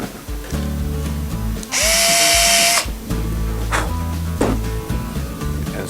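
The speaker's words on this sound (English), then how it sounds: "And then drill the hole, little pilot hole." A power drill bores a small pilot hole for a hinge in a wooden cabinet door, one loud whirring burst of about a second rising in pitch, set amid soft background music.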